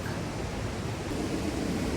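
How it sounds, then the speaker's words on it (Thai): Loud waterfall in rainy-season forest at Khao Yai, a steady roaring rush of falling water filling the whole clip without pause, close and dense, with no voices. "เสียงน้ำตกดังมาก ๆ นะครับ"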